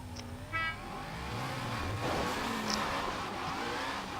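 Several cars accelerating at wide open throttle on a roll race around a bend, a loud continuous engine roar building and sustained, with a brief squeal near the start and no voices.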